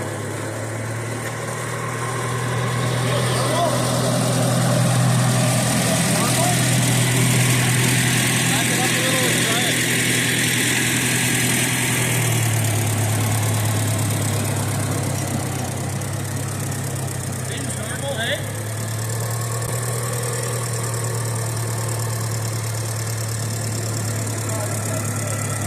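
An engine runs steadily to break in after an internal repair in a snowy outdoor setting, a loud sustained hum whose pitch rises and falls slightly, with a voice speaking over it.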